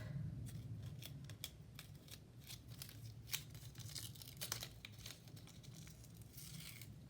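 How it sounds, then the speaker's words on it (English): Washi tape peeling and tearing during a stationery unboxing, a faint series of quick, crisp rips and crinkly snaps repeating irregularly over quiet room noise. "Ooh, it keeps ripping."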